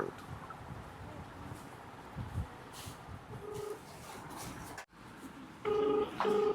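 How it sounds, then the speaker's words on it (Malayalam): Faint phone dialing tones and a ringback tone on an outgoing call, short tonal beeps over a murky room background, with brief muffled voices early on. "അവന്തിക ഫോൺ എടുക്കുന്നില്ല"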